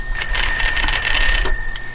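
A Swedish M-37 field phone, called from an E8 field phone, gives a fairly loud, continuous metallic bell ring lasting about a second and a half, then a brief faint ring after it.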